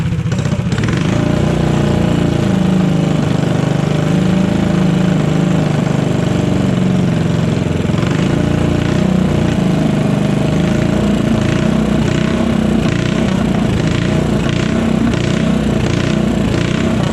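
A modified Honda GX160 small engine on a backyard go-kart fires up and settles into a loud, steady, slightly uneven idle that chugs on without pause, close to the microphone.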